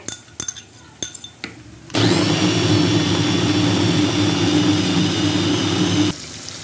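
Kitchen blender chopping onions into a paste: after a few short clicks and pulses, the motor roars into a loud, steady high-pitched whir for about four seconds, then cuts off abruptly.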